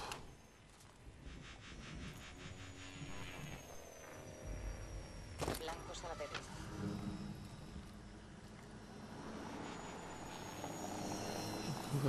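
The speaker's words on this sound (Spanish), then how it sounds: "Varios drones van hacia usted" Several drones in Call of Duty Advanced Warfare fly toward the player, a faint droning whir with a brief sharp burst near the middle, swelling louder toward the end.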